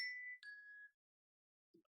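A phone's notification chime sounds as a bright two-tone ding, clear and close in a quiet room, followed moments later by a much fainter short blip.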